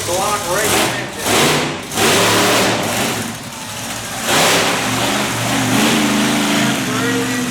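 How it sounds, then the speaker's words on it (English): A 509-cubic-inch big block racing engine in a monster truck revs hard at an outdoor show in Plattsburgh, New York, loud surging bursts rising and falling under crowd noise and a booming announcer's voice. "509 cubic inches, big block racing engine."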